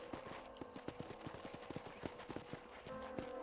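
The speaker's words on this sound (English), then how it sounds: "let's see if you can still ride a horse" A horse gallops in the video game Red Dead Redemption, its hooves striking in a quick, regular clip-clop rhythm throughout, close and steady over a low ambient bed.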